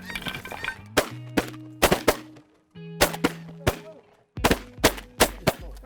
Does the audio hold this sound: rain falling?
no